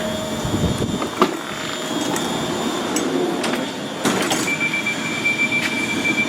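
A train leaving Wemyss Bay station rumbles along with metallic clanks and a faint squeal of wheels, a steady moderate roar throughout.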